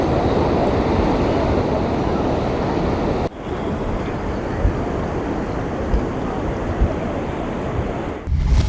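Loud, continuous roar of flooded Kayadhu River water pouring over a bridge in Hingoli after heavy rain fills the whole clip, a dense churning flow with gusty noise and a sudden drop in intensity partway through.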